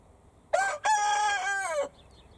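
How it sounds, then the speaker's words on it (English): A rooster crows once nearby, loud and clear, with a short opening note followed by a long, drawn-out call against a quiet rural background. "Nearby is Gogo the rooster."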